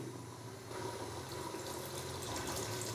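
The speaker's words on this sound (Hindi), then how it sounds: "अभी मैं इसके अंदर डालूँगा हाफ कप के करीब पानी।" Water poured into beef curry in a pressure cooker, a steady close rushing splash lasting a few seconds and growing slightly louder, with no talk.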